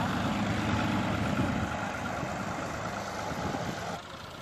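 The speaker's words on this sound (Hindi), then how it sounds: "अब ट्रैक्टर ट्राली गंदम लेकर खलवाड़े पर पहुंच चुकी है।" A tractor hauling a trolley loaded with wheat idles at a village threshing ground, a steady, broadband engine rumble that stays loud and continuous throughout, with no one speaking.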